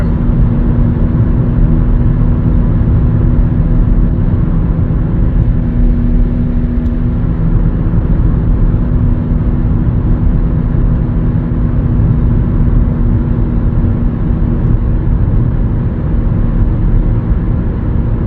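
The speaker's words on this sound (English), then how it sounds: "It's definitely a wheel bearing noise." A 2020 Nissan Rogue with a worn rear wheel bearing drives along a highway, a constant loud low rumble and hum of road and cabin noise with a steady droning tone throughout, no talking.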